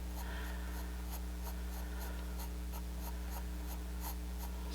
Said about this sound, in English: You can just shade it with just your own pencil stroke marks.